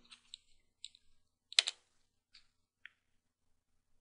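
Sparse, crisp clicks of keys being typed on a computer keyboard, entering a Linux command, a few isolated taps with short pauses, close and quiet.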